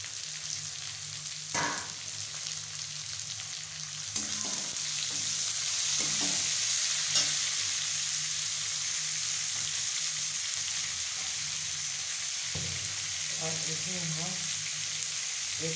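Onions frying in a pan for palak saag, a steady broad sizzle that grows louder after a few seconds, with occasional clinks and stirring knocks and no talk.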